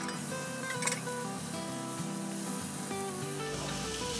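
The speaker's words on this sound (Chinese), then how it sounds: "盖起来大概煎8分钟左右" Chicken breast fries over low heat in a covered pan, giving a steady, soft hiss that continues evenly with no talking.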